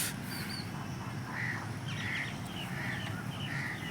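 Crows gathering outdoors where grain is being scattered for birds, giving several short cawing calls in an irregular series over a steady background of ambient noise, moderately distant and fairly faint.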